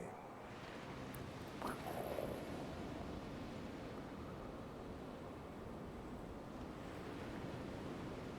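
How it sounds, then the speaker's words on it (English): A gale-like wind sound effect, turned up during a tabletop game session, plays as a steady broad whooshing roar with slight gusts, moderately faint and continuous. "Now it sounds like a gale."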